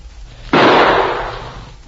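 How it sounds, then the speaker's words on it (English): A single loud gunshot from an old radio drama cracks abruptly and then fades over about a second and a half, standing alone with no talk. "Now, here goes our last shot."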